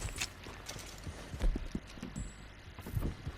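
Horse hooves clip-clop in an uneven walking rhythm in Red Dead Redemption 2, moderately close, mixed with faint tack and gear rattles, without talk.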